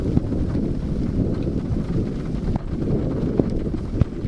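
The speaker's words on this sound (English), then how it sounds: "That was an epic lightning strike." Thunder follows a lightning strike during a New Mexico supercell storm, a deep continuous rumble mixed with wind buffeting on the microphone and a few sharp knocks, fairly loud and close, with no voices.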